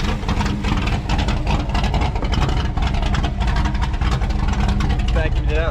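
An old 1967 Camaro, back running after sitting for 34 years, rumbles steadily on a short test drive, a loud, dense engine drone heard close from inside the car without a break.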